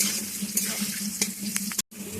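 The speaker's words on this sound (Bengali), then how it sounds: "আলুটা আমার মোটামুটি ভাজা হয়ে গেছে" Potatoes frying in oil in a home kitchen pan give a steady close sizzle with a low hum, a few scrapes and clinks, and a brief gap near the end.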